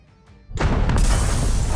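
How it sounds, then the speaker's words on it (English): A sudden loud burst of explosions with shattering glass crashes in after a quiet moment, then stays as a dense, roaring wash of debris and noise. "a sudden burst of explosions and the sound of glass shattering enters your ears"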